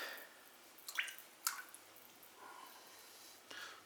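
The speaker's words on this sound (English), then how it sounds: "Hold it a second, let it drip off" Iron slip glaze dripping off a freshly dipped pottery piece in a studio, a few faint, separate wet drips and soft splats over quiet room tone.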